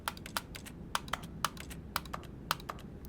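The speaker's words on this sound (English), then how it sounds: "Anytime I click anywhere, it does the mechanical keyboard noises." Mechanical keyboard clicks sound with each mouse click in The Stanley Parable, a quick irregular patter of crisp close taps and clacks with no talking.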